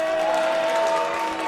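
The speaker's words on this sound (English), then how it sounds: "Greeted with a huge cheer in the live lounge" A darts crowd in a live lounge cheers a thrown 180, a steady wash of applause and cheering that runs through the whole short moment at a moderate, slightly distant level.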